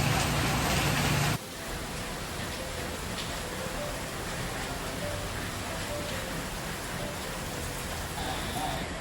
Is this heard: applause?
no